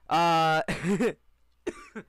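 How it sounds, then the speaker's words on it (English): A person coughs once, a harsh, loud, sustained bark followed by a couple of rougher throat sounds, close to the microphone, with a brief spoken word after. "sorry, I have a cough"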